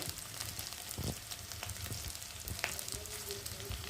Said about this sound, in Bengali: দেখো রসুনটা দিয়ে দিয়েছি, দিয়ে ভালো করে ভেজে নেবো পেঁয়াজের সাথে